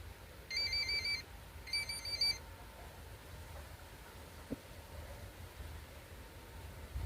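A phone ringtone plays two short bursts of bright electronic tones, faint and somewhat distant, followed by several seconds of quiet room hiss.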